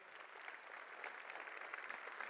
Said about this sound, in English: Will you guys all applaud Megan for her work?